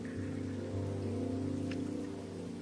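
Steady rain falls in a blocky Minecraft-style world beside a Japanese-themed koi pond, a continuous even hiss with a low rumbling bed and no talk.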